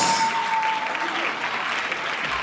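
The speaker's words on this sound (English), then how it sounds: "Clap your hands, celebrate grace." A church congregation clapping their hands during a conference service at Reign House Chapel, a steady dense wash of claps filling the space, fairly loud and even, with a faint sustained tone underneath.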